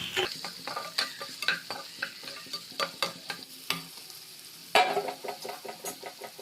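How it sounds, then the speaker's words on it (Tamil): Finely chopped onion sautéing in a pan for drumstick-leaf ragi roti, soft sizzling under a series of rhythmic stirring and scraping strokes, one sharper clank partway through, fairly quiet and close. "வெங்காயம் வதங்கிடுச்சு"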